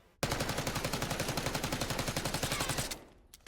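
The Jackal submachine gun rattles off one sustained automatic burst in the Black Ops 6 firing range, loud and close, with rapid evenly spaced shots lasting under three seconds before cutting off into quiet.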